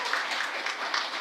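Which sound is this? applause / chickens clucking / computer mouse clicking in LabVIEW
applause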